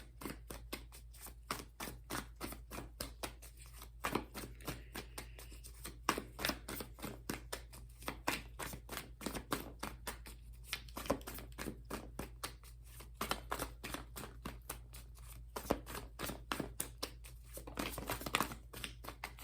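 A deck of tarot cards is shuffled by hand in a quiet room, quick soft riffling flicks repeating in steady bursts for a long stretch, close and fairly faint.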